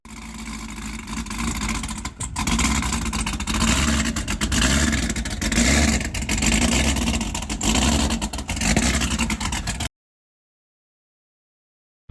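A Chevrolet Camaro V8 fitted with new cylinder heads and a new cam revs hard and steadily for about ten seconds, loud and close, with repeated throttle blips and a brief dip near the two-second mark.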